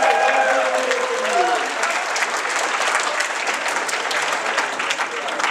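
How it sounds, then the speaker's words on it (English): A convention crowd at BronyCon 2017 breaks into steady, full applause during a quiz-style panel, a dense wash of clapping that holds evenly throughout, with a voice briefly heard over it at the start. "Round of applause, by the way."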